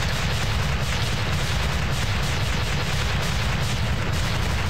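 A dense, continuous roar of explosions and blasts from the platformer Freedom Planet fills the whole stretch, loud and unbroken without distinct pauses, with no talking.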